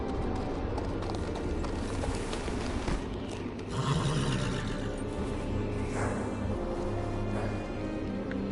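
Horse hooves clip-clopping on a mount in a Game of Thrones video game at the Wall, a steady rhythmic trot at moderate distance under game ambience and music, with no talk.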